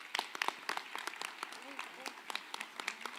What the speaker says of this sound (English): I just think we need to give a big round of applause for them.